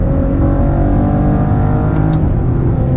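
A Maserati Ghibli S in sport mode roars through a tunnel, its engine a loud, close, sustained growl with rich low harmonics echoing off the walls, alone without talk.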